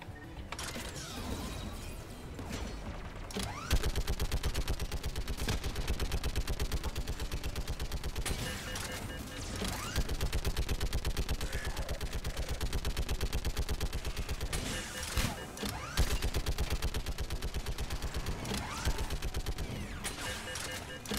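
Sustained automatic turret fire in Mass Effect, a rapid, dense rattle of shots running almost continuously with brief gaps, loud and close amid layered combat noise.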